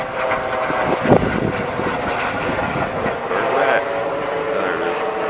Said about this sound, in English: There we got helicopter flying over, kind of out of the norm.